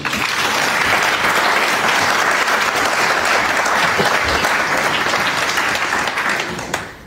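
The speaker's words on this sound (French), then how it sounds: "demander qu'on applaudisse le comité d'organisation" An audience at a diaspora gathering applauds the organising committee, a loud, thick wash of clapping held steadily for several seconds before tapering off at the close.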